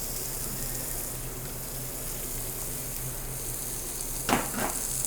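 Peppers and garlic fry in a pan for chicken cacciatore, giving a steady, close sizzle throughout with a brief stirring clatter near the end; no one speaks.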